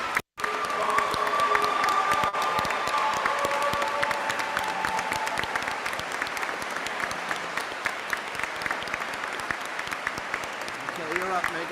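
Audience applause fills a university commencement hall as residents are celebrated, a dense, steady wash of clapping mixed with some cheering and crowd murmur that continues for over ten seconds.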